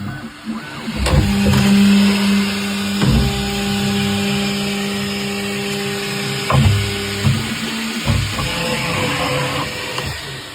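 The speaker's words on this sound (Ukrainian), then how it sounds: "Так, перше вімкнення і зараз завантажуємо філамент." A 3D printer whirs at its first power-on while filament loads into the extruder, with steady motor hums, sharp mechanical clicks and stepper tones shifting in pitch, close and clear.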